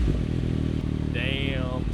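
A CFMOTO 675 SS motorcycle fitted with a Yoshimura exhaust revs close by, its engine note climbing and falling through one loud, continuous rise.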